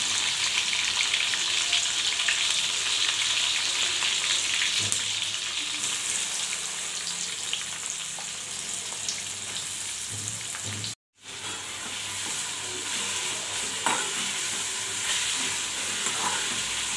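Onion frying in a kadhai, a steady close sizzle and hiss running throughout with occasional stirring scrapes and one brief dropout.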